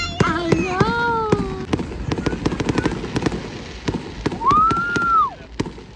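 Fireworks show at Sea World: a string of sharp bursts and pops scattered through the whole clip, with voices and crowd chatter underneath and a rising whistle-like tone near the end.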